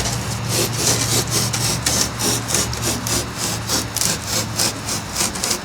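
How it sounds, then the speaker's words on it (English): A thin knife saws through material to cut out large DIY gingerbread prop figures, producing loud, close, rhythmic rasping strokes in a steady back-and-forth pattern with no talking. "I'm going to cut them out with my knife"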